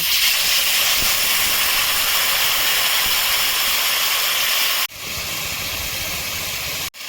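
Hot water poured into a pan of frying tomatoes and spices, giving a loud, steady broadband hiss and sizzle that runs throughout, with a brief dip near the end as it settles.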